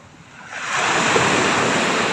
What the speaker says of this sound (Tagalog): Gawa ng dumaan kasi yung bagyo. Kaya lumakas yung dagat dito.